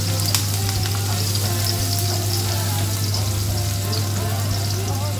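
Garlic frying in hot cooking oil in a home kitchen, a loud steady sizzle and crackle with a constant low hum beneath it throughout, and a voice speaking faintly over it.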